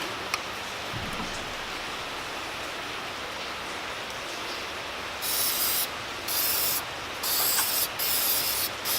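PVC Spray Lock sprayed onto a PVC pipe and coupling, heard as several close hissing spray bursts over a steady broadband background hiss, with short pauses between them.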